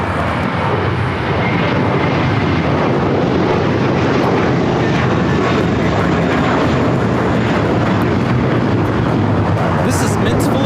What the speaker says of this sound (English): taking off to Boston on this A321 JetBlue 1388